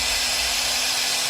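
A heat gun blows a steady, even hiss of hot air onto a plastic sheet being warmed to thermoform a fishing-lure stencil, heard alone at close range.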